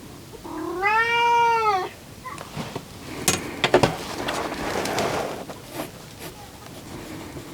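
A single drawn-out, clear meow from a house cat, close and prominent, followed by scattered knocks and rustling handling noises in a quiet room.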